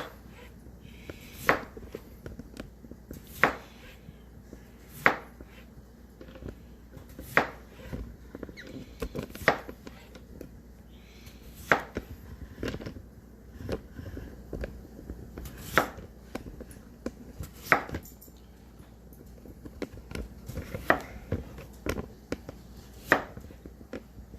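A knife slicing food into even slices on a cutting board, with steady, evenly spaced crisp chops repeating close up for over twenty seconds, no talking.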